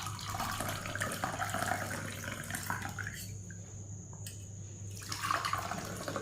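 A curry leaf and drumstick leaf drink being strained into a glass, a quiet steady trickle and pour of liquid that thins to a few drips before the flow picks up again.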